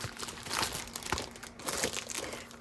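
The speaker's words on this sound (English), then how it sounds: "This is a pack of paper." A pack of paper being handled in its plastic wrapping gives close, busy crinkling and crackling with several sharper crunches, continuous and fairly loud.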